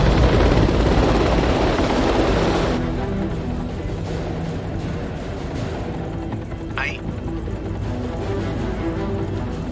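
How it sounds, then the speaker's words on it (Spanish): A helicopter arrives in the video game House of Ashes. A loud rotor roar dominates the first few seconds, then settles into a lower, steady drone with game sounds and voices at times. "Pues esos güeyes ya llegaron por ellos en helicóptero."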